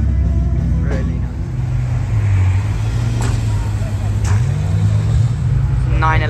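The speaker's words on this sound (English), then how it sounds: "911's coming in here." A Porsche 911 drives in at a car gathering, its engine a steady low rumble with a rising and falling tone, continuous and fairly loud, with faint background sounds around it.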